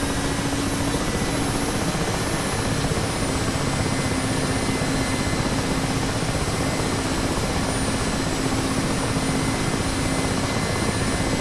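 A Mi-8 helicopter in a flight simulator game runs up its engines and main rotor, a loud, constant turbine whine and rotor drone with steady tonal hum throughout, no voices over it.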